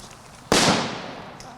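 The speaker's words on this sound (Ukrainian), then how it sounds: "А далі вибухи." A single sharp, loud explosion at a military training ground bursts out suddenly, then fades into a lingering rumbling decay.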